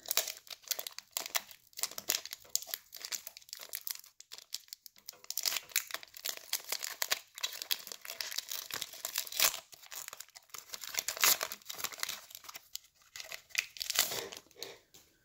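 Pokemon TCG Team Up booster packs being torn open, foil wrappers crinkling and ripping in close, continuous bursts with no talk, busy crackly handling throughout.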